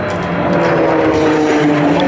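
Grumman S-2T Turbo Firecat firefighting aircraft flying at an airshow, a steady, loud turboprop drone with a sustained tonal hum and no break over two seconds.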